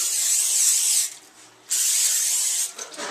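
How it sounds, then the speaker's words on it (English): Cooking spray sprayed onto a griddle for pancakes, two close, loud hissing bursts of aerosol, each about a second long, separated by a brief pause, with a quick partial spurt at the end. "A little bit of cooking spray."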